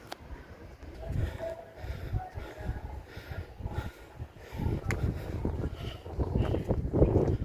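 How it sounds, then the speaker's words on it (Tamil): Gusty wind blows across a hillside trail on a herbal mountain, rushing and buffeting close to the microphone in uneven surges, growing louder toward the end. "இப்போ காற்று கொஞ்சம் வீசுது"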